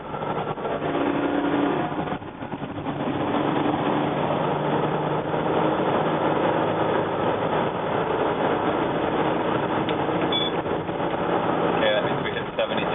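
A Sprinter van engine at full throttle climbing a hill, heard from inside the cabin as a loud, continuous, muffled roar that holds steady throughout.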